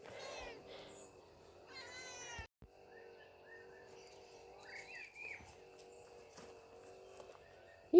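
A hungry cat meows twice in quick succession near the start, close and clear, followed by quieter background sounds with faint birdsong.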